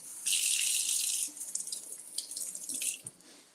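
Green onions rinsed under a running kitchen tap, a steady hiss of water for about a second, then broken splashing and dripping as the stalks move through the stream, close and alone.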